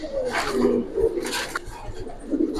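A Giribaz pigeon coos in a couple of soft, low phrases at close range over a steady background.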